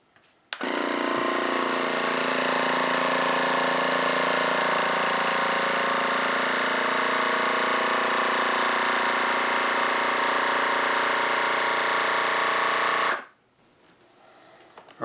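A vacuum sealer pumps air out of a bag of canned dry goods with an oxygen absorber. A steady, loud mechanical drone starts abruptly, holds evenly for about twelve seconds, then stops.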